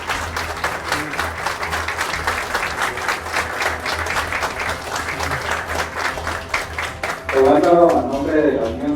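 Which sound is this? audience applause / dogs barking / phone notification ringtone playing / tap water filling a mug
audience applause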